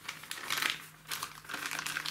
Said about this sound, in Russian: подкатываю пакет.